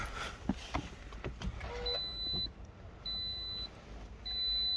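Three evenly spaced high electronic beeps from a 2014 Toyota RAV4 diesel, each held about half a second, over engine rumble and faint mechanical clicks.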